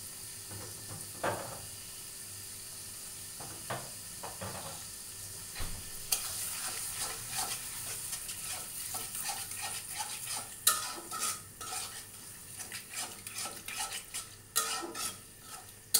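Spicy pasta sauce sizzles gently in a pan while a utensil stirs and scrapes against it, producing soft intermittent clinks and scrapes at close range that grow busier toward the end, with no talking.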